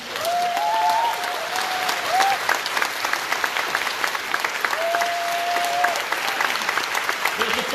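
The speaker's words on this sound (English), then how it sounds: "A huge round of applause to yourselves one more time for being here today." An audience at an outdoor pilgrimage gathering claps in sustained, fairly close applause, with a few whistles rising over the clapping.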